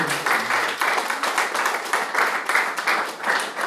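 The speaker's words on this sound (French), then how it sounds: "Applaudissons pour glorifier le Seigneur" A congregation applauds steadily during a church worship service, dense clapping sustained throughout at an even, moderately loud level, with no pauses.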